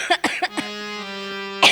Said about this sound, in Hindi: और तुम्हें खांसी भी है।